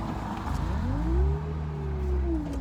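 Mazda Miata NA with a variable valve timing setup, engine droning steadily while driving, pitch rising and falling gently as it pulls, heard from inside the car with no talking.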